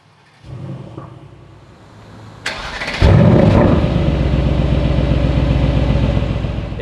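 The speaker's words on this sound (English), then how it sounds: "It has got a beautiful, beautiful, pure AMG startup, just like you get in the C63." Mercedes-AMG GLC63 S Coupé V8 started up in Sport Plus mode: a sharp crank and loud bark that settles into a deep, steady, burbling idle close by, with no talking.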